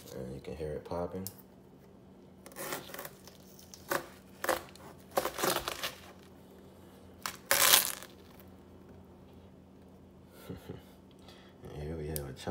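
A knife cuts open a 17.2-pound Charleston Grey watermelon with bursts of crisp cracking and popping rind, several short crunches spread out between quiet pauses, with a person talking at the start and end.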